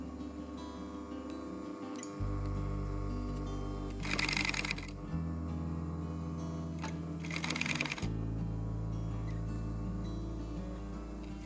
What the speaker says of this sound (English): Lower your needle into the work, then lower the foot and off you go.